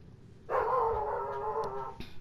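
A single dog in the video game Skyrim gives one drawn-out, fairly loud bark or howl lasting over a second, with a brief sharp sound just after it and no talking.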